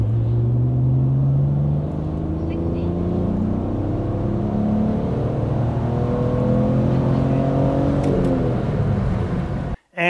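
A car with 5 kg wheel weights accelerates hard in a 50 to 110 km/h speed test, its engine droning and rising in pitch through several gear changes, loud and close from inside the cabin, cutting off abruptly at the end.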